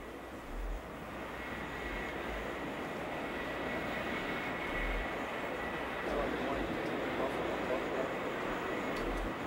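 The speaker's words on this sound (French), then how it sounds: "Ce ne sont pas les avions qui manquent sur le terrain." Airplanes at a busy airfield give a steady, broad engine roar that holds for several seconds, loud and constant, with people talking over it.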